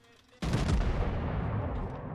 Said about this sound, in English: I'm taking a pot shot at the Furutaka